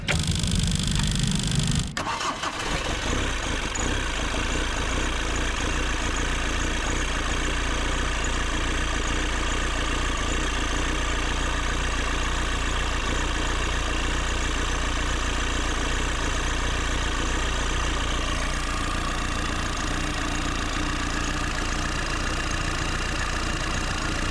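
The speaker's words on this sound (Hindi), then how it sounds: "अब जा रहा हूँ मैं कार को स्टार्ट करने और देखता हूँ मिसिंग करती है कि नहीं" Tata Vista diesel car with a misfiring engine, running after a brief start at the beginning, then idling loudly and continuously with a steady low rumble and an uneven beat.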